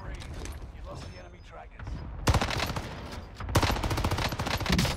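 Gunfire from a QBZ-83 assault rifle in a shooter game, with two sharp, loud bursts of rapid shots after a quieter stretch, with faint voices underneath.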